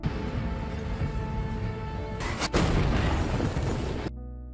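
A big explosion in a revenge action film erupts as a loud, dense rumbling blast with a sharp burst midway, sustained roar, then an abrupt cut to quiet.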